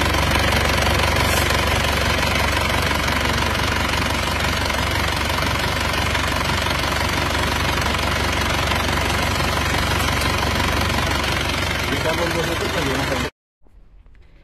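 A rough, knocking, worn Panther car engine with severe blow-by idles steadily and loudly nearby, with a chuffing, uneven rumble; it cuts off abruptly near the end.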